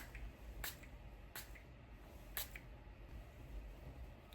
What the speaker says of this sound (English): Okay, let's do a little spray.